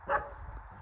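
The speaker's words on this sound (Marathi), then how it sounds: "कुत्रा" A single short dog bark, close and fairly loud, followed by quiet background noise.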